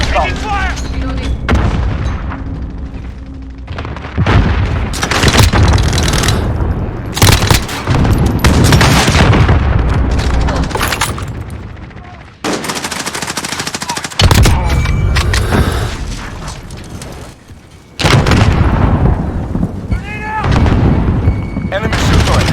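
Rapid bursts of automatic gunfire and single shots crack through a shooter video game firefight, dense and loud with brief pauses between volleys and a sustained roar of fire in the middle stretch.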